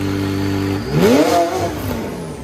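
A 2017 McLaren 570S 3.8L twin-turbo V8 with straight-pipe exhaust idles with a deep rumble, then revs up sharply in one loud rising surge before settling back down, close by.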